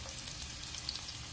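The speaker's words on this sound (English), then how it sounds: "Sprinkling some onions just to season the oil." Onions frying in a thin layer of vegetable oil in a pan give a steady, close, hissing sizzle with fine crackles, continuous and unbroken, with no talking.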